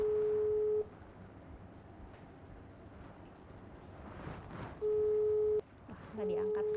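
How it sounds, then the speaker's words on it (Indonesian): A video call rings out unanswered, its steady electronic tone sounding in repeated bursts with quiet gaps between them and faint background noise throughout. "Kita langsung telepon Bang Firdausnya ya, video call sama Bang Firdaus"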